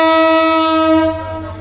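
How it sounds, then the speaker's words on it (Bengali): A local train on the Chattogram–Nazirhat line sounds one loud, close, sustained whistle at Chariya Madrasa station, its steady tone fading away after about a second. "এই যে দাঁড়াতে দাঁড়াতেই কিন্তু হুইসেল বেজে গেল।"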